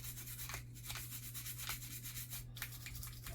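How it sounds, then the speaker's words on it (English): The trigger housing of a Glock pistol is scrubbed with cleaner in steady, rhythmic back-and-forth strokes that rasp close up against a constant low hum. "I like to scrub the top of my trigger housing"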